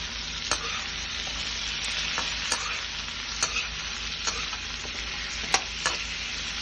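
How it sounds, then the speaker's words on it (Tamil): Drumstick, brinjal and pumpkin pieces sauté in hot oil in a pan, giving a steady, close sizzle broken by about ten sharp clicks and scrapes of stirring. "அலம்பி வச்சிருக்கிற காய்கறியை போட்டு அதையும் கொஞ்சம் நல்லா வதக்கிக்கோங்க."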